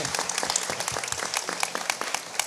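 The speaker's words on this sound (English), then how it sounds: "We should give another big round of applause for the performance." An arts-event audience at Palazzo Diedo in Venice gives a round of applause for a performance, a close, lively burst of many hands clapping with sharp individual claps standing out.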